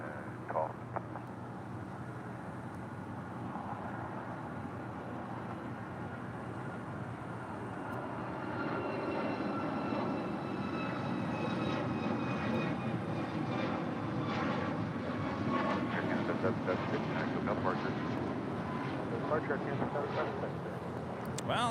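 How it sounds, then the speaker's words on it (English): A Boeing 777-300ER arriving from Manila approaches LAX, its engines a steady distant roar that swells louder and rumbles through the second half, with a voice talking over it. "coming in from Manila, the 777-300ER, just 5 minutes out from a north side arrival"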